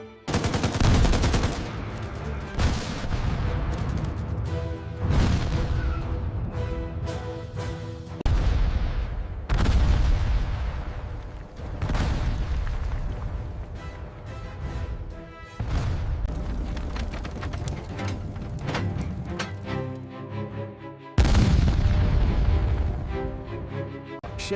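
Dense battlefield gunfire with rapid machine-gun bursts and heavy artillery booms, loud and continuous with repeated surges as shells land, no voices over the din.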